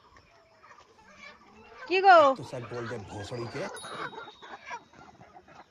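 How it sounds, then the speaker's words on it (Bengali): Mini broiler chickens at a small poultry farm cluck faintly in the background while people talk close by, their voices dominating. "এই যে দেখো কত মুরগি।"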